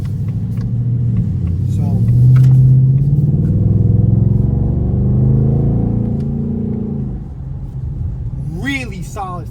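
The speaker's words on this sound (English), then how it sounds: "Really solid sounding exhaust for this type of car." A 2024 Ford Mustang's exhaust in track mode rumbles loudly and deep, swelling and easing under a voice, then ends with a quick rising blip as it downshifts.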